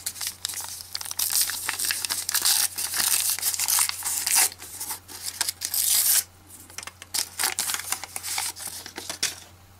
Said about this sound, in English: Here's the two packs we're going to open.